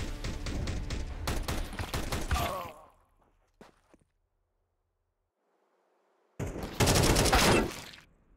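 AK rifle fire in a competitive shooter game, with a rapid burst of shots, a quiet gap with a few faint clicks, then a second loud burst.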